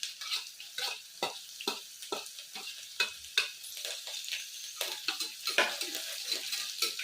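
Crushed garlic and fenugreek seeds fry in a pan for village-style horse gram rice, a quiet sizzle broken by regular stirring scrapes and spoon taps on the pan.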